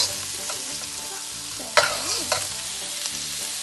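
Schezwan chicken stir-fried in a pan: a continuous hiss of frying with a few sharp clanks and scrapes of the spatula, close by and without talk.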